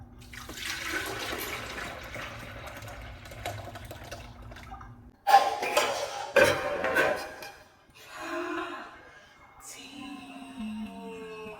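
Juice is poured into a container, a soft trickling stream under a low hum for several seconds, then a few clattering knocks and splashes, followed by quieter intermittent pouring.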